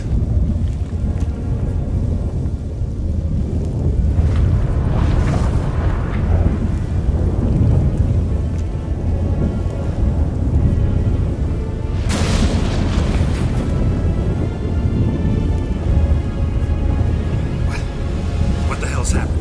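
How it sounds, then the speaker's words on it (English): A thunderstorm with heavy rain in The Witcher 3. A dense, loud, steady roar of rain runs throughout, with rumbling thunder swelling beneath it and a sharp crack about two-thirds of the way through. "That a storm?"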